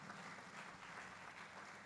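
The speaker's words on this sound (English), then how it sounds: "A round of applause for him." Steady, dense applause from a crowd, continuous and fairly loud throughout with no pauses.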